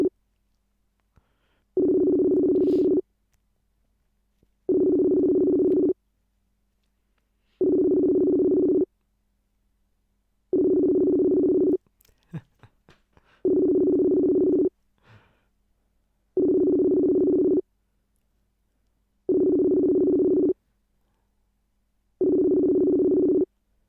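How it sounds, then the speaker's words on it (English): An unanswered phone call's ringing tone repeats eight times in an even rhythm, each long buzzing burst separated by a silent gap, with faint handling noises between rings. "just keep ringing for the next half an hour"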